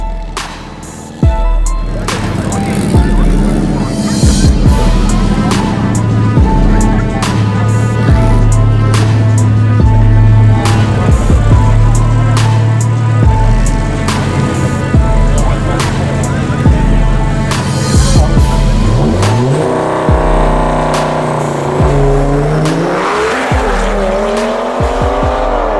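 Porsche 911 Turbo S drag racing a 4A-GE powered turbo Volkswagen Beetle in a street race, with loud sustained engine roar, rising gear-change pitch sweeps and tire squeal throughout, a busy mix over background commentary.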